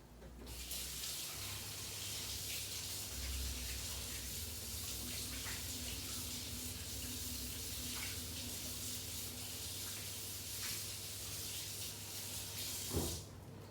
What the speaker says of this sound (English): I'm just gonna rinse my buttery fingers